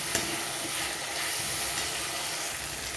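Spice masala with freshly added chopped tomato and a splash of water being stir-fried for a rohu fish kalia, producing a continuous wet sizzle with soft stirring scrapes, close and steady, with no talking.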